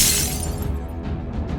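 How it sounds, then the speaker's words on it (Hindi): A stone smashes a car's window glass in a sound effect: a loud, dense crash of shattering glass bursts at the start and continues as a rough, noisy scatter of breaking fragments through the short clip. "वो संतोष की गाड़ी का शीशा तोड़ते एक पत्थर से देखने के लिए कि अंदर है कौन।"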